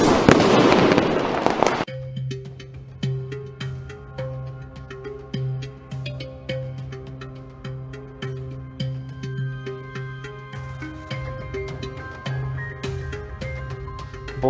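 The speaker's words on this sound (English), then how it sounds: "Oh wait, I forgot the funny explosion." A cartoon sound effect of a comic explosion opens with a loud, noisy blast about two seconds long, then gives way to a rhythmic musical sting with repeating tonal notes.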